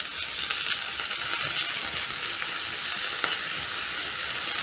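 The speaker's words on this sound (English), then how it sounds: "Place a pan over medium heat and add cooking oil to your pan. Add onions, garlic and ginger," Onions, garlic, ginger and coriander stems sautéing in cooking oil over medium heat, a steady bright sizzle with a few light stirring taps, with no voices.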